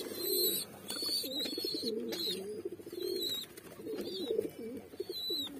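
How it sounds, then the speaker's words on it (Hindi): Pigeons, including baby pigeons being hand fed, coo repeatedly nearby in soft rolling phrases, overlapping one another, with thin high chirps mixed in. "गाइस मुझे बहुत दिक्कत करते हैं पीछे तरफ से कबूतर,"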